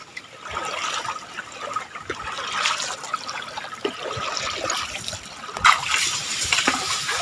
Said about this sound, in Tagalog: Ang laki po ng tubig